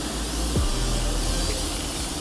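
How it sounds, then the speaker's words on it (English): Makeup fixing spray hisses from a Dye Forever bottle in a fine, continuous mist, one close, steady spray burst lasting about two seconds before cutting off abruptly. "So next I'm gonna set my face with the Dye Forever makeup fixing spray."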